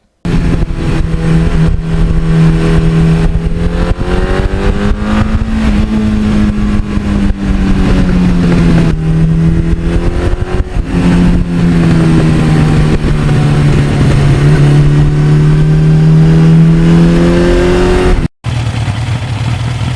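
A 1982 Suzuki GS1100E motorcycle engine revs up repeatedly through the gears, its pitch rising and dropping in long sweeps, loud and close throughout.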